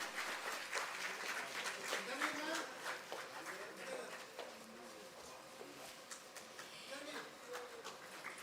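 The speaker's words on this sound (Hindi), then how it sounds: "जोरदार तालियां होनी चाहिए" Audience claps at a government appointment letter distribution ceremony, a steady broadband patter of many hands at a moderate, distant level, with a voice audible over it toward the end.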